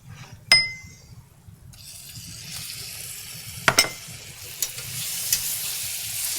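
Banana slices frying in a pan for Bananas Foster with mint, giving a soft steady sizzle with a few sharp clinks of utensil against pan scattered through it.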